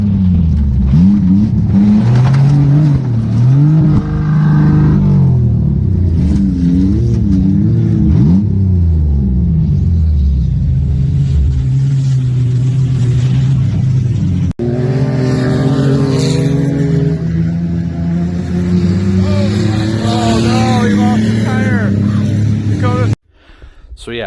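Hyundai Accent bump-and-run race car roars around a track among other racers, engines rising and falling loud and close, with a sudden shift in the sound near the end.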